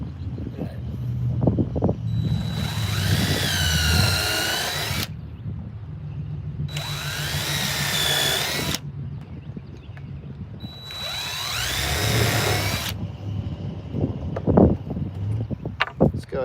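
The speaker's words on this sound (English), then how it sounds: "go ahead and put a couple screws in here and lock it in." A power drill drives screws into the wood of a skateboard ramp under construction, three sustained whirring bursts of a few seconds each, close and loud, with workshop clatter and handling noise between them.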